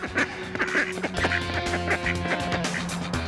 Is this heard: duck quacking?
yes